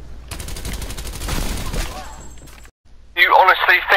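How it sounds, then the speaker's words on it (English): A nail gun in the video game Black Ops Cold War fires a rapid, close burst of repeated sharp shots for over two seconds, then falls silent briefly before a voice speaks loudly over the game sound. "Now time to try out the nail gun."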